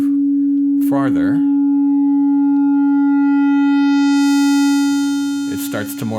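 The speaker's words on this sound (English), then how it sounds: "it starts to morph into and turns into a square wave." A steady tone from an MRB Zeroscillator synthesizer oscillator slowly changes character, its buzzy overtones swelling as a pure sine turns harsher into a square wave; brief speech at start and end.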